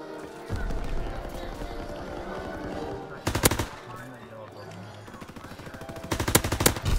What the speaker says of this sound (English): Fire shotgun again.